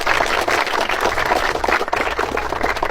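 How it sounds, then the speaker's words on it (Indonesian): Group applause at a school gathering of students in Purwakarta, a dense steady wash of many hands clapping at close range for about three seconds with no talk over it. "Tepuk tangan ya."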